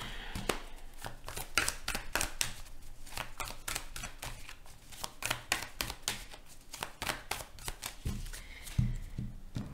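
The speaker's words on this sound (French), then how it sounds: "moi, c'est d'arriver à mélanger les cartes" Tarot cards shuffled continuously at close range, a dense stream of crisp papery slaps and riffles that runs steadily the whole time, with no talking.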